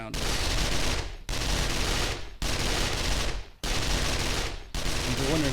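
An automated turret in the game 7 Days to Die fires continuous bursts at zombies, sustained loud machine-gun fire in four long volleys separated by brief pauses.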